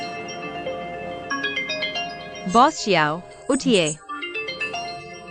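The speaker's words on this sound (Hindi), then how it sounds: "आपका फोन बज रहा है।" A melodic phone ringtone chimes in repeated bursts, with a brief warbling trill pattern, while a person speaks over it.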